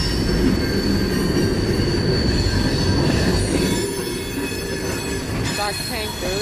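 A freight train with tanker cars rolls past close by, loud rumbling and clattering wheels with sustained high metallic squeals, easing slightly toward the end.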